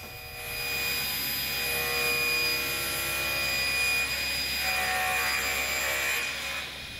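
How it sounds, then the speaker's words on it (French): A panel saw rips chestnut wood boards, trimming the edges off the planks: a loud, steady whine with a continuous hum runs for about seven seconds, without talk. "On les passe d'abord à la scie à format pour débiter des lames pour enlever les côtés du bois"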